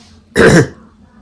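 A single short, harsh cough, close and sudden, with quiet before and after.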